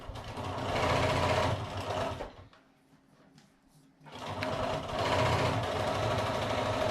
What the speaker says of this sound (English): And then sewing that together.